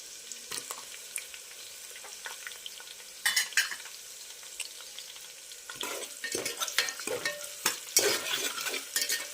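Onions fry on a low flame for khichdi, a soft sizzle punctuated by bursts of stirring and spoon scrapes against the pot that grow busier toward the end, with no voices.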